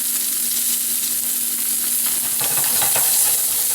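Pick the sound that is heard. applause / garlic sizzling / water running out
garlic sizzling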